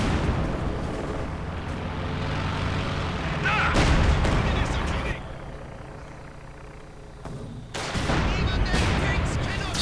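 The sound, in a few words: mortar battery firing in a WWII strategy video game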